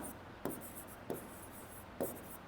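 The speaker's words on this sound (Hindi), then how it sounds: "तो यहाँ पे लिखेंगे" Chalk or a marker strikes a board three times at even intervals during a maths lecture on quadratic equations, with faint, brief scrapes over a quiet room.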